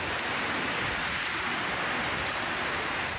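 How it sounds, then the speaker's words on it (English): Heavy rain pours down during a sudden downpour on the Fraser Coast, a dense, steady hiss with no breaks that fills the whole moment at a constant level, no voices present. "The ferocity of the downpour a surprise."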